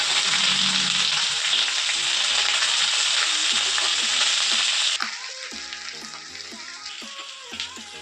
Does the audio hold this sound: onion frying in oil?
yes